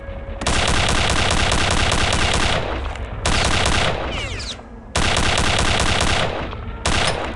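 Loud, close machine gun fire in Return to Castle Wolfenstein blasts in long sustained rattling bursts, broken by short gaps with scattered pings and ricochets, then resuming, no voices heard.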